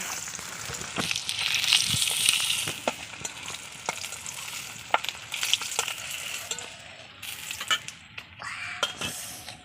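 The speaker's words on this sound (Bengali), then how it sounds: "আমি ওই তেলেই দিয়ে দিচ্ছি গোটা জিরা" Whole cumin seeds frying in hot oil left in the pan after frying rohu fish, giving a steady close sizzle with crackling pops, stirring scrapes and occasional utensil clinks throughout.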